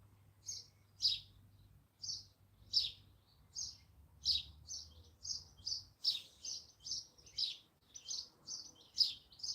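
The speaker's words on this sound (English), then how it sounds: "Just listening to the birds." Small birds chirp outdoors at a campsite on a cold evening, giving repeated short, bright tweets in a steady rhythm, moderately distant and fairly faint over a low background hum, with no talking.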